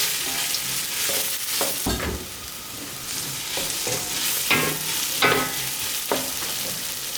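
Onions frying in a pan, a steady sizzle with repeated scraping stirs of the spoon at irregular intervals, close and clear without talk.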